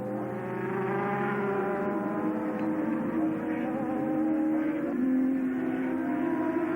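Superbikes race along the straight of a 1983 racing circuit, several engines droning at high revs together with shifting, layered pitch. The strong, steady sound builds slightly toward the end, and no voice is heard over it.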